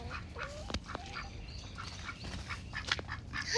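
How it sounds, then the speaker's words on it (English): Ducks at a homestead quacking in short nasal bursts, several calls spread over a few seconds against quiet outdoor background, moderately near. "Usually the duck comes right over."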